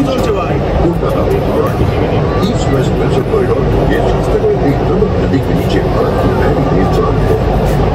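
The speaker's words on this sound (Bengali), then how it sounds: "ভারতবর্ষের এই প্রথমবার গঙ্গার নিচ থেকে মেট্রো।" Kolkata's underwater metro train running through a tunnel beneath the Ganges, a loud steady rumble and rail roar filling the carriage, with passenger chatter and babble mixed in throughout.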